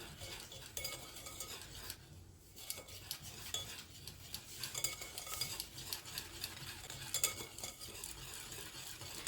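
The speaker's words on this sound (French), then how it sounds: "je vais venir déjà mélanger tout ça" Christmas cookie ingredients are stirred together in a bowl, a close, quiet scraping and rubbing of a utensil against the bowl in uneven strokes, with no talking over it.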